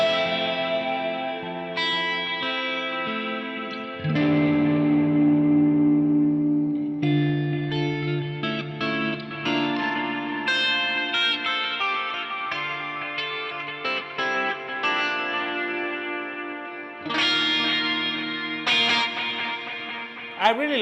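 Electric guitar played through an Electro-Harmonix Electric Mistress flanger pedal on a slow sweep: sustained chords and ringing notes with a swirling, whooshing jet-like modulation, loud and steady with brief gaps between strums.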